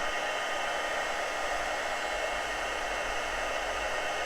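A heat tool blows hot air close up to melt metallic embossing powder on black card stock, giving a loud, steady, unbroken whoosh with no voices.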